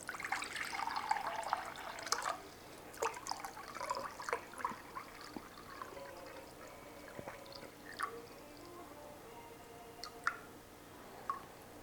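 470 grams of room-temperature water splashes and trickles into a container for sourdough bread dough at first, then gives way to scattered drips and small clinks in a quiet room.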